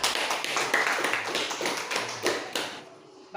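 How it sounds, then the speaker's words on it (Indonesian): Middle school students in an Indonesian classroom clap their hands together in a dense, crackling burst that carries on steadily and then fades away near the end. "silakan tepuk tangan"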